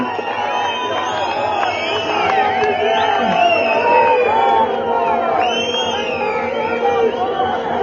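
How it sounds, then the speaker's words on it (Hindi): A large crowd cheers and whoops in welcome of Priyanka Gandhi Vadra at a statue unveiling in Himachal Pradesh, a loud, continuous roar of shouting voices and chatter that holds steady throughout, with excited cries rising above it. "जोरदार तालियों से स्वागत करें माननीय सांसद एवं महासचिव एआईसीसी श्रीमती प्रियंका गांधी वाड्रा जी"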